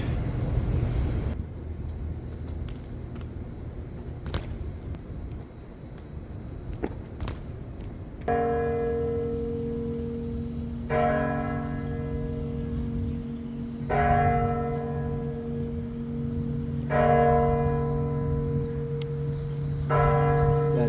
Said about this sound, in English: interrupting my vlog with their beautiful bells